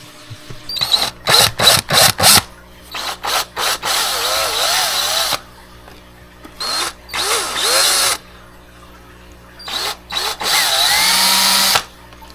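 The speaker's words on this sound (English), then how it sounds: "How well do you drill a hole?" A power drill drilling a hole whirs in several bursts: short quick triggers at first, then longer sustained runs with pitch dips as the bit bites, loud and close.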